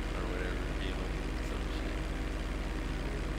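A plane engine in Grand Theft Auto V gives off a steady, low, droning buzz with a pulsing, propeller-like texture. It runs evenly and fairly quietly for a few seconds.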